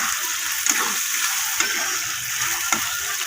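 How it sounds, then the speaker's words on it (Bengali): Tomato sautéing with spices in a pan for a potato dish, giving a steady close sizzle with a few soft clicks of stirring, no talking. "মশলার সঙ্গে ভালো করে কষিয়ে নেব টমেটোটা"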